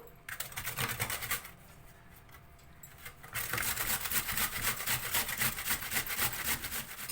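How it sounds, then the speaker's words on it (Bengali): Two radishes being rubbed across the large holes of a big grater, a rough rhythmic rasping close up that pauses briefly and then resumes in quicker, louder strokes. "এই গ্রেটারে আমি মূলো দুটোকে ঘষে নেব"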